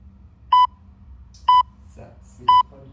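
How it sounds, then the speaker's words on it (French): Workout interval timer sounding three evenly spaced, sharp electronic beeps about a second apart during a 30-minute full-body home session, with faint breathing and movement between them. "Ça, c'est les 3 bips qui nous emmènent au burpees."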